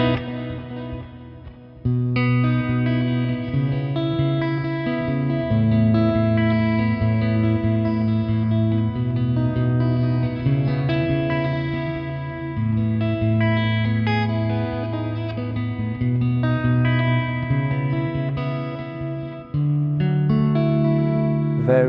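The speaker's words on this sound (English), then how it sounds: "Let's crank the mix up on the studio reverb as well, get a bit more ambient on it." Clean electric guitar, through a Neural DSP John Mayer plugin with studio reverb, plays chords and picked notes with a spacious reverb tail, sustained and sparkling, with no voices.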